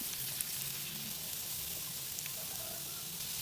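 Vegetables and red chilies stir-frying in a pan, a steady soft sizzle with faint crackles and occasional light scraping, continuous and close.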